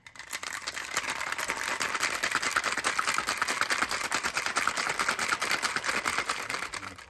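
A cocktail shaker holding pineapple juice and ice rattles in a fast, rapid rhythm for several seconds, loud and close, with no talk.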